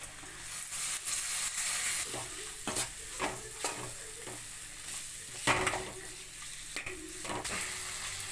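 Tomato and turmeric masala sautés in a pan for crab masala, a steady close sizzle broken by repeated scraping stirs of a spoon against the pan.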